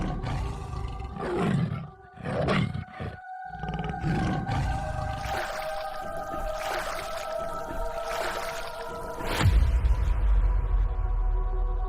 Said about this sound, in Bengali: বেকা, আশেপাশে বাঘ আছে, কাছাকাছি নৌকা দাঁড় করাস না।